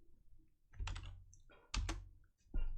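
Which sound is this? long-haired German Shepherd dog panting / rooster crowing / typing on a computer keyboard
typing on a computer keyboard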